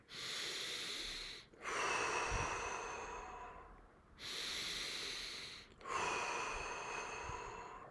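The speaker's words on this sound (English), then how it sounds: "Focus on breathing in deep, breath out, just let it go." Slow, deep breaths in and out, each long hissing inhale and exhale heard close and alone, two full breathing cycles with short pauses between them.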